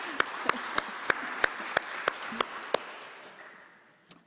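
Scattered claps from a small church congregation during a Sunday service, a few sharp hand-claps spaced out and fading quickly, followed by one last lone clap.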